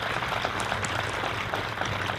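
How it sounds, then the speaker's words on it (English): An audience applauds steadily at a military change of command ceremony, a continuous clapping wash at moderate distance for a couple of seconds. "another round of applause to motivate them for the next few minutes"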